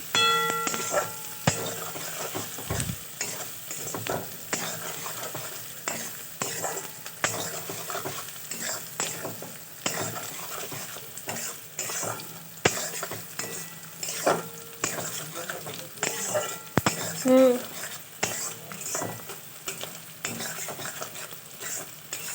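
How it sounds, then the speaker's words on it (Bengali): Sustained sizzling of onion and green chili frying in a pan with frequent spatula scrapes and occasional metallic clanks, close and steady throughout, no speech. "পেঁয়াজ আর লঙ্কাটা ভালো করে ভাজা ভাজা করে নিচ্ছি"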